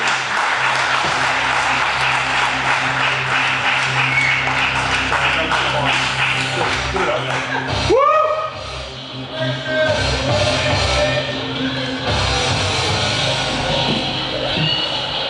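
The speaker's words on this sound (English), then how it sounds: "So everybody, please give us a warm round of applause and say, Gretchen, our next Recorder of Deeds" A crowd applauds and cheers for Gretchen, introduced as the next Recorder of Deeds, with steady clapping and some yells through the first half, then a sharp change around the midpoint as the clapping thins and a voice briefly comes through.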